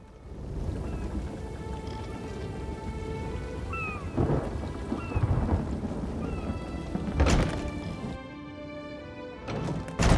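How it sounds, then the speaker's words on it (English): A thunderstorm in The Elder Scrolls Online rolls on with steady heavy rain and repeated loud thunder cracks and rumbles, some close and sharp, others more distant. "Now there's a new storm brewing"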